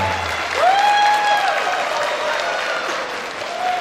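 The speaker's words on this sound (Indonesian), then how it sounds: "Tepuk tangannya yang mulia yang di belakang." Audience in a hall applauds a prominent Indonesian political figure, a sustained wash of clapping lasting the whole stretch, with a faint tonal whistle or feedback line over it and no clear speech.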